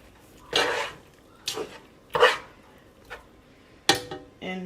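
A spoon knocking and scraping against a pot of homemade creamy jerk sauce, five separate clattering strikes spaced irregularly, fairly close and clear with quiet gaps between.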